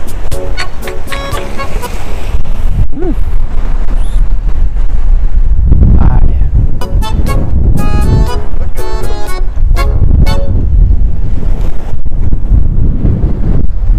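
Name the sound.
wind blowing at the Corniche in Qatar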